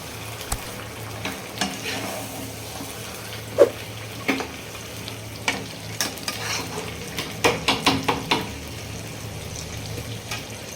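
Chicken curry sizzles in a pan while a spoon stirs and scrapes it, with irregular metallic clinks that grow busier toward the end.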